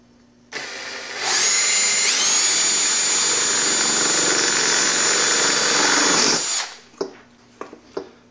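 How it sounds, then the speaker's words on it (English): A power drill bores a starter hole through sheet metal with tin snips nearby, running loud and steady for about six seconds with a rising whine, then stopping, followed by a few faint clicks and taps. "I'm going to use a drill to cut a starter hole"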